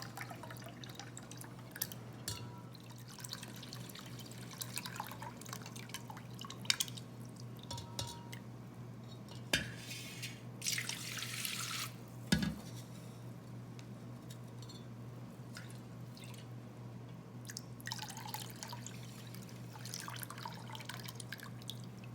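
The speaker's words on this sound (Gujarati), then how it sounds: "આવી રીતે સામાન્ય 2-3 પાણીથી આવી રીતે ધોઈ અને એકદમ ક્લિયર પાણી મળે ત્યાં સુધી ધોઈ નાખવાનું" Samo grain is rinsed in water in a kitchen, with soft dripping, splashing and sloshing over a steady low hum, fairly quiet and continuous with no talk.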